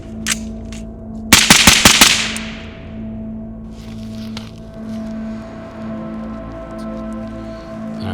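A pistol fires five quick, loud, close shots at a target from 10 yards on an outdoor range, a tight burst followed by ringing decay, with a few quieter clicks and handling sounds before and after.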